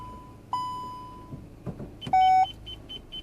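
Electronic beeps sound from an aftermarket rear-bumper parking sensor on a Kia Rio: one long tone, then a sustained loud beep and a quick run of short beeps over low rumble.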